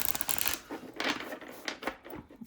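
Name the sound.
shuffling tarot cards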